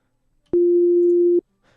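A synthesizer sine wave holds one steady, pure low tone for just under a second, starting and stopping abruptly with small clicks, loud and isolated against silence.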